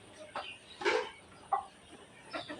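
Egyptian Fayoumi chickens and roosters resting on a farm, giving a few short clucks and calls at moderate distance, spaced irregularly over a quiet background.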